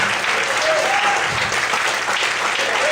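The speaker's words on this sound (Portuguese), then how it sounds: "Todos podem aplaudir e exaltar o Senhor nessa noite." A church congregation claps loudly during an evening service, a thick, continuous roar of applause filling the room with no voices standing out.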